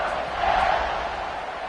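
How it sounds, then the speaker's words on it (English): A football stadium crowd buzzing after a score, a steady broad roar of many voices with a brief swell of cheering, sustained and distant-sounding. "this crowd is buzzing after that last score"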